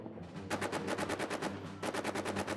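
Machine gun fire in the WWI trench game All Quiet in the Trenches: two sustained bursts of rapid, evenly spaced shots, loud and steady, with no talk.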